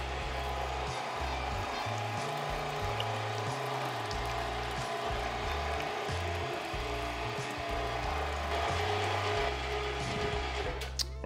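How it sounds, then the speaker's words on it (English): An electric meat grinder fitted with a 10 millimeter die grinds meat for al pastor sausage, a steady loud motor drone with shifting low churning tones running throughout, close by and without talk. "I am using the 10 millimeter die, just grinding the meat twice"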